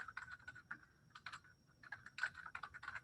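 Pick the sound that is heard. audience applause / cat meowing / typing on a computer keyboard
typing on a computer keyboard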